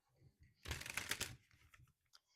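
A deck of cards is shuffled close up in a quiet room, a dense riffling burst lasting about half a second and trailing into a few light taps and flicks.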